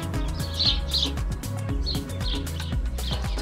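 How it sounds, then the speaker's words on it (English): Birds chirping and calling outdoors in Cyprus, bright repeated tweets over a steady rhythmic musical backdrop, moderately near with no talking. "But look, listen to all the beautiful birds."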